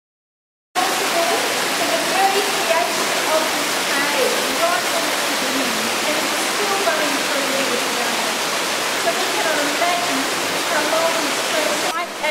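Water drips quickly at a rocky stream site near Deloraine, Tasmania, a steady dense patter of drops and trickling heard close, with people talking faintly beneath.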